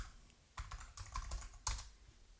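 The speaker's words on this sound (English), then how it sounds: "Let's create a password for Bob" Password typed on a computer keyboard, a quiet close burst of several quick key clicks in two short clusters.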